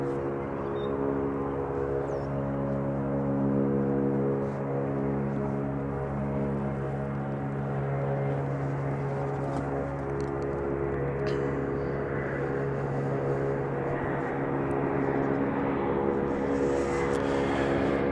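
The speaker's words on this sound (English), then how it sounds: "that propeller plane you hear in the background is conducting some sort of a static test" Steady droning hum of a propeller plane engine running at constant revs during a static ground test at an airport, somewhat distant, continuous for the whole stretch.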